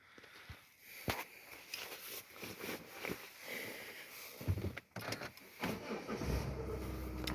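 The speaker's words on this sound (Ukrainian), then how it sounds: "Завів автомобільчик." A 2015 Mazda CX-5 with a 2.2 diesel engine and automatic gearbox is started: a few interior clicks and thumps, then the engine catches and settles into a steady low rumble near the end.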